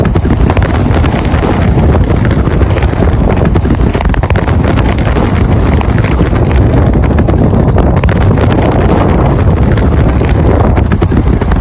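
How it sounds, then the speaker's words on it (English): Strong wind from a dust storm in Las Vegas roars steadily and buffets the microphone, a constant heavy rumble with no pauses. "strong gusts returning in waves"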